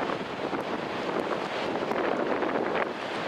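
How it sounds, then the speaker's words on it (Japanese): Strong northwest wind buffets the microphone at Sendai Shinko beach, a steady loud roar with gusty rumble throughout, waves and surf faintly mixed beneath. "強くてカメラ押さえてないと三脚ごとね飛ばされそうな風になってます。"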